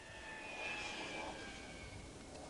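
A jet car engine with afterburner roars steadily at a distance, a broad whooshing rumble with faint whining tones running throughout the short stretch, without any talk over it.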